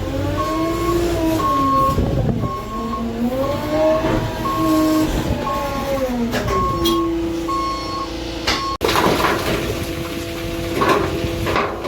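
A train passing on a railway line beside a construction site, with a loud, steady rumble and sustained, wavering horn-like tones, followed by a sharp click and a changing drone.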